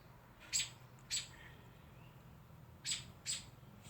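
An angry bird guarding its nest squawks while chasing other birds away: four sharp, brief calls in two pairs separated by a pause, fairly faint over a quiet outdoor background.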